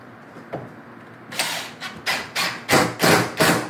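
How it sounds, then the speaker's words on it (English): Screw driven into half-inch drywall with a power driver, a series of short whirring bursts close by, about six quick pulses in a row after a couple of faint taps. "you grab a screw, screw that in"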